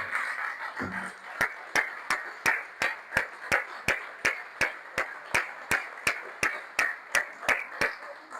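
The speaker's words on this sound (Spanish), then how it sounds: "Si lo entendió, le damos un aplauso al Señor." A church congregation claps in a steady, even rhythm, each crisp clap cutting through a soft wash of room noise after a brief vocal sound at the start.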